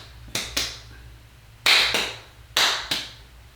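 Hands clapping close by: five sharp claps in irregular pairs and singles with short reverberant tails, over a low steady hum.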